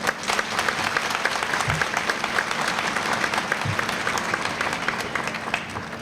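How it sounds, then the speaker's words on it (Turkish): Sustained, lively applause from a crowd at the opening ceremony of a girls' student dormitory, dense and continuous with scattered sharper claps throughout. "Bir alkış istiyorum."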